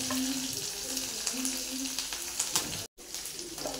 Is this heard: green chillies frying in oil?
yes